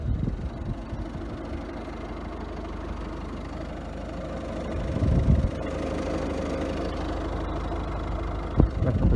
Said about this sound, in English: Now I'll just start it up for you.